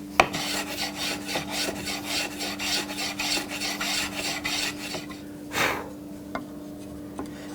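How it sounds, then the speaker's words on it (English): A giant chisel pares excess wood from an electric guitar neck, giving a run of rapid, close rasping strokes, then one longer scrape and a few faint taps, with no talk. "I am using a giant chisel"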